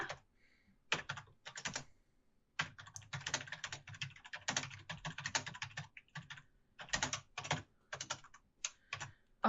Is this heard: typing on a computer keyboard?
yes